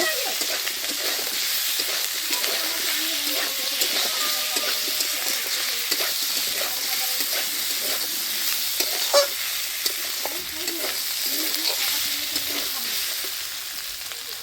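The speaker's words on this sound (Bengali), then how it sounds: "এটা সবজি দিয়ে সবজির সাথেই ভাজা হচ্ছে" Ginger-garlic paste and spices fry together with vegetables in a pan, a steady close sizzle with repeated scraping and stirring clatter throughout, and no talk.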